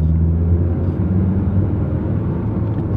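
A repaired Volvo 850 on the move after clutch and rear main seal work, giving a steady low engine and road rumble from inside the cabin, continuous and fairly loud with no talking.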